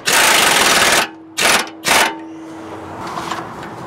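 A rattle gun drives home the nut on a SuperSteer P3032 bell crank in three loud, close bursts, one long and two short, followed by a quieter lingering hum.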